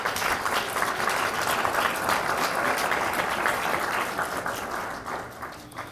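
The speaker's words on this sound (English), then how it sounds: "please give her a round of applause" An audience at an award ceremony applauds steadily and warmly for several seconds, the dense clapping holding even before easing off slightly toward the end.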